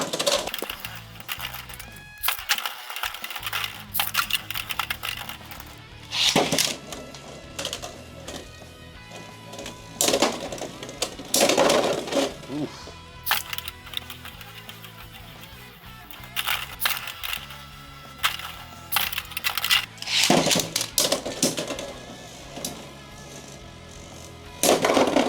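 Beyblade X spinning tops, including a Shark Edge combo, clash and grind inside a plastic battle stadium, with sharp repeated impacts and scraping bursts throughout at moderate loudness.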